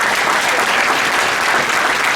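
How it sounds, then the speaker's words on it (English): A crowd at a fundraising dinner claps steadily and loudly, a dense continuous wash of applause with no pauses. "please have a huge round of applause for our volunteers"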